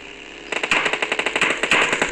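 Rapid automatic gunfire in the mobile battle-royale game PUBG Mobile, a loud burst of evenly spaced shots that starts suddenly and keeps going to the end.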